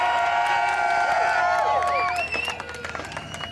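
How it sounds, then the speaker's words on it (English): A rally crowd at a marijuana march in Calgary cheers and whoops loudly for volunteers, shrill shouts and whistles rising together and then tapering into scattered claps and voices. "Sandy and Matthias, give them a big cheer"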